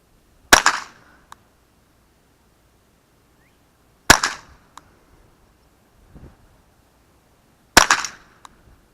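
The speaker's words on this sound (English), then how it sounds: "I'm using AR tactical long rifle here, copper nosed, copper plated round nose ammunition." Three sharp, loud shots ring out from an AR tactical long rifle firing copper-plated round-nose ammunition outdoors, spaced a few seconds apart, each with a short decaying echo and a faint click afterward.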